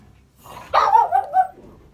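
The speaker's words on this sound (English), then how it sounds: "No, we're not gonna bark." A dog gives one loud, close bark that trails into a short whining yip, following a brief soft rustle; no voices are heard.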